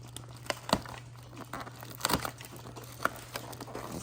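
Stiff packaging on an advent calendar being worked open, with crinkling and short tearing rustles in irregular bursts, close and fairly quiet.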